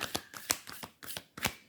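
Tarot cards shuffled by hand, six or so crisp riffling bursts in quick succession, close and moderately loud, with no talking.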